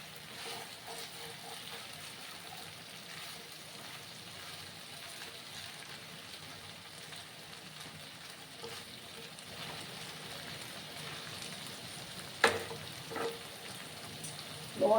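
Okra and potato frying over a low gas flame in a pan, giving a steady soft sizzle throughout with a few sharp clinks near the end.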